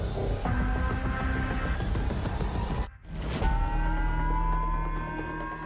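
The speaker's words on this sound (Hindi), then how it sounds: "जापान के होक्काइडो में सायरन बजने लगा है।" An air raid siren in Hokkaido, Japan sounds a sustained, droning tone, cuts out briefly, then resumes at a steady level.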